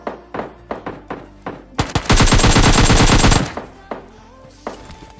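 Gunfire in the mobile shooter game PUBG Mobile Lite: several sharp single shots, then a loud sustained automatic burst lasting over a second, followed by a few more scattered shots.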